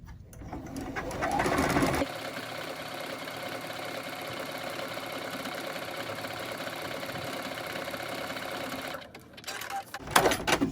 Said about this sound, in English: I haven't used this machine yet to do a binding stitch like this